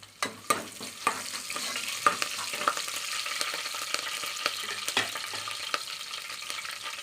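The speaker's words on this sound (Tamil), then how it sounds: "கருவேப்பிலை சேர்த்திக்கலாம் காரத்துக்கு நான் பச்சை மிளகாய் அதையும் அதிலே சேர்த்திக்கலாம்" Curry leaves and green chilies frying in a pan of hot oil while cooking vegetable pulao, giving a steady close sizzle with occasional sharp pops and spoon scrapes, no talking.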